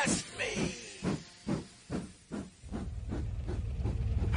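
A steam train pulls out of a station, sending out a steady run of rhythmic chuffing hiss bursts that speed up, then merge into a continuous rumble and hiss, fairly faint.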